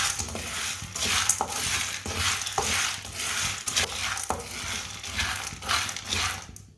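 Roasted chickpeas stirred and heated in a pan to crisp them, a continuous scraping and rattling with rhythmic spoon strokes and a light sizzle, close and steady throughout.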